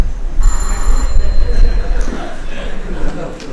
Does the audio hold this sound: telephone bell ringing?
yes